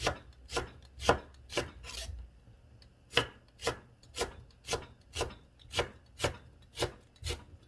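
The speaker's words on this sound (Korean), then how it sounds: "그럼 콩나물이 끓어오를 동안 들어갈 야채를 좀 썰어 미리 썰어보겠습니다" A knife chops green onions on a cutting board in a steady rhythm of about a dozen crisp, fairly soft strokes, with one short pause partway through and no voices.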